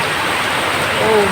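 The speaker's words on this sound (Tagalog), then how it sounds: "Malakas ng ulan." Heavy rain pours down in a dense, constant roar of water, loud and close with no break.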